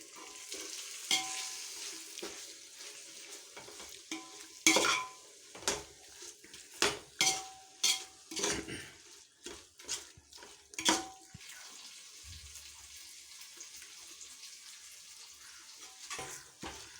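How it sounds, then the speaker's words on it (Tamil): Tomatoes and green chillies for a chicken biryani sauté in a pan, with a soft background sizzle broken by a run of sharp spoon scrapes and clanks against the metal, close but moderately quiet, with no talking. "இப்போ தக்காளி மிளகாய் ஓரளவுக்கு நல்லா வதங்கிருச்சு"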